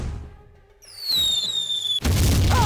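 A bomb drops and explodes in the video game Jagged Alliance 2: a falling whistle slides downward in pitch, then a sudden loud blast with rumbling debris follows, with a brief low hum and ticks before the whistle.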